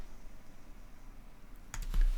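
Computer mouse clicking, a few quick sharp clicks in a short cluster near the end after quiet room tone.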